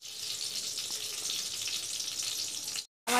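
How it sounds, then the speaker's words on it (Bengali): Potato and onion curry cooks in a pan with a steady, bright sizzle and hiss that runs continuously at close range, cutting out briefly near the end before resuming. "আর এখানে আলুর তরকারি হচ্ছে, পেঁয়াজ দিয়ে আলুর তরকারি হচ্ছে"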